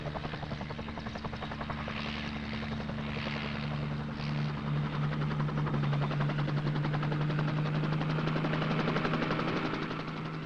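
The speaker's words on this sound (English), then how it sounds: "A small, flat clearing in the jungle is all that's necessary for the helicopter to operate." A helicopter operating in a small, flat jungle clearing at a drill site, its rotor thudding in a rapid steady chop with a droning engine tone, loud and close throughout.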